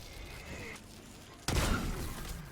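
Gunfire in Call of Duty Warzone, with a player shooting through walls at an upper floor: a sharp loud burst of shots near the midpoint that follows quieter game ambience and decays into a rumbling tail.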